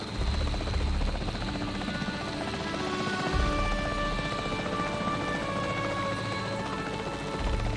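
A helicopter flies in the dinosaur-park game Jurassic World Evolution, its steady rotor and engine drone loud and continuous, with a heavy low rumble running the whole time and no break in the sound.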